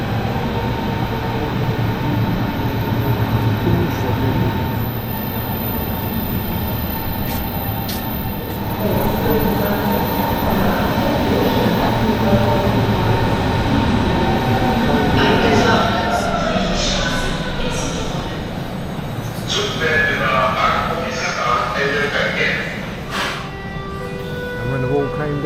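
An overground train rumbles and rolls through the underground Potsdamer Platz station in Berlin, with brakes squealing and hissing toward the end, echoing inside the enclosed space.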